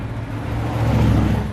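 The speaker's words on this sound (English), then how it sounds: "it may take a while for the cars to go by" A car driving past on a city street, close to the microphone, as a steady low engine rumble and tire whir that swells toward the middle and stays fairly loud, with no talking.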